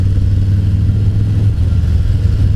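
A 2018 Harley-Davidson Fat Boy 114 motorcycle engine held at a loud, steady low rumble with a deep throbbing idle-like drone, close up and alone with no speech.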